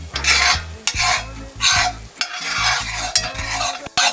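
A roux stirred in a pan for smothered chicken, rhythmic bursts of spoon scraping around the pan about every half second over a light sizzle, with a few sharp clinks.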